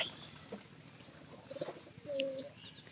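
Soft pigeon coos and faint chirps come through a quiet, hissy background, low in level and somewhat distant.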